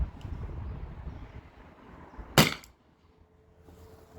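A T4E TR68 CO2 gun firing a salt impact round, one sharp, loud, close pop that decays quickly, followed by near silence after low background rumble.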